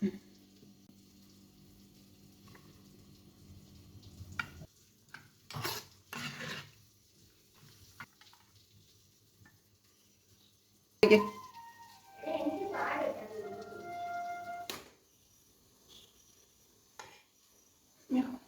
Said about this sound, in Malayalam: ഇനി നമുക്ക് അരപ്പ് ചേർത്ത് കൊടുക്കാം.